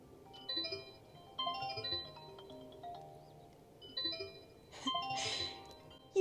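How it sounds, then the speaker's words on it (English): In a Citroën ë-C3 electric van, the infotainment system plays an iPhone ringtone with a tinkling chime layered over it, in repeating bright bursts, quiet and close, with no talk. "you have the iPhone sound in the background and then this really weird tinkling sound over the top"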